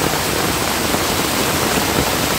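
A small creek swollen after heavy rain in a farming area, rushing water giving a loud, dense, continuous roar close to the microphone, with no voices.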